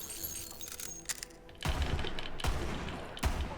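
The Jakobs Unforgiven revolver fires in Borderlands 3, three heavy, close shots spaced about a second apart, each ringing out after a soft clicking lead-in.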